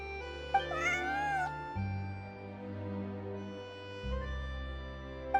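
Cat meowing in the Genshin Impact video game, a single drawn-out rising meow over a soft game music bed, moderately close and clear.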